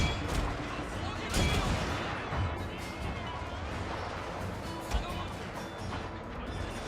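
Cannon and gunfire from a Total War: Shogun 2 battle crackle in dense bursts, with a few sharper blasts over a steady battlefield din.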